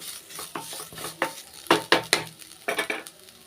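Grated coconut sautéed in a pan over low heat, with a spatula scraping and stirring in irregular bursts of soft rattles and scuffs up close. A faint sizzle sits underneath and no one speaks.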